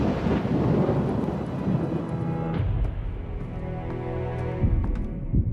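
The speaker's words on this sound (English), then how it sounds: "Not just hail, hail, lightning, fire, a sort of cosmic storm." A thunderstorm rolls through as a cosmic storm of hail, lightning and fire, with a loud, dense rumble that swells, breaks with a sharp crack midway and keeps booming heavily to the end, with no voices.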